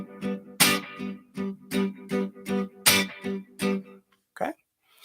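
Guitar strummed in a 12/8 R&B feel, with heavier accents dug into the fourth and tenth beats, steady rhythmic chord strokes sounding alone and up close.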